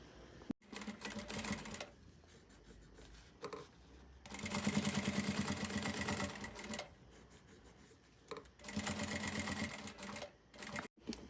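A sewing machine stitches a necessaire along the seam allowance, guided by the feed dogs, in three steady whirring runs separated by short pauses, close and fairly loud with no voices.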